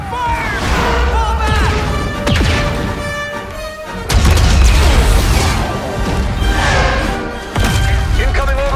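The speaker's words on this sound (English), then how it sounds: "Incoming orbital strike!" Orbital strike explosions in the Star Wars Battlefront video game: heavy booming blasts land repeatedly over layered battle noise, with deep rumbling impacts and a voice calling out between them.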